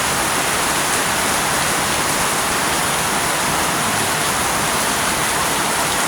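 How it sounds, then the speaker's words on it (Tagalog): Heavy rain falling outdoors while a woman bathes in it: a dense, steady hiss of downpour, loud and close, unbroken for the whole stretch with no talk. "Ang paulan, naligo sa ulan."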